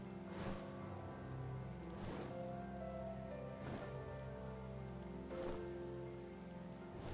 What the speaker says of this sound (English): the rain will keep us hidden